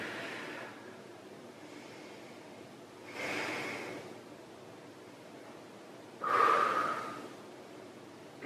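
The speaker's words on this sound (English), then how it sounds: "Breathing deep." Slow, deep breaths during a seated butterfly stretch come as three soft, close breathy bursts separated by quiet pauses, with no talking.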